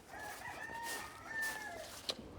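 Chickens kept near a home garden crow and cluck, the rooster's calls drawn out and fairly close, with a short sharp cluck near the end and no talking.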